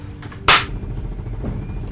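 A multicolor firework launcher in Fortnite fires a single sharp, loud burst that decays quickly over a low background hum, with no talk over it.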